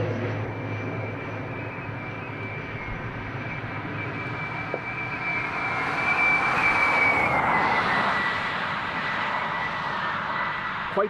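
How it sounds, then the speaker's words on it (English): A car with noisy roof bars passes on a road beside Dublin Airport, a whistling, droning wind noise that swells as it goes by, over a steady background rumble of traffic and aircraft. "that car goes by. That noise is the roof bars."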